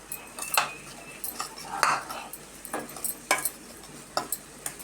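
Spoon scraping and clinking in a pot while millet flour is mixed with crushed cardamom for laddu, giving irregular close taps and scrapes with quiet gaps between.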